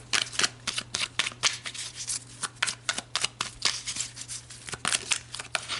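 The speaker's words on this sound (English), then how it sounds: "So let's pull a couple more cards." Tarot cards are shuffled and pulled in a quick run of close, crisp riffling bursts with short gaps, over a faint low hum.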